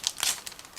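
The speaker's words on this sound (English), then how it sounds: "it is packed into the separate plastic bag, that's why I need 1 second to open it" Clear plastic parts of a 1/32 Zoukei Mura Hs 129B-2 model kit being pulled from their separate plastic bag: a short, close crinkle and rustle of thin bag plastic, one quick burst and then quiet.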